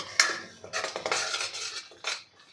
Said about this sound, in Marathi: आता तेल सुटेपर्यंत आपण हे वाटण परतून घेऊ